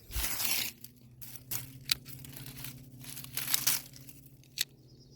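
Dead, dry leaves are trimmed and pulled from garden perennials in a spring bed, giving close crackly tearing and crinkling bursts with a few sharp snaps, spaced irregularly and fairly quiet.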